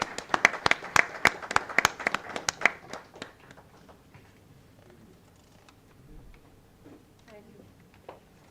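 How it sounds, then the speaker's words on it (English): A short burst of scattered clapping from an audience at a startup meet, a few sharp claps in the first three seconds tapering off into a quiet room with faint murmuring. "Big round of applause, please."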